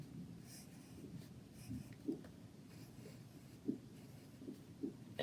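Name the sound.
pen drawing small patterned shapes on paper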